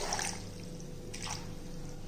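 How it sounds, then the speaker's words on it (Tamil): Water poured from a small vessel over chopped cucumber: two short, soft splashing trickles, faint and close, with a quiet gap between them. "இப்போ வந்து கொஞ்சம் தண்ணி ஊற்றிக்கிடுவோம்."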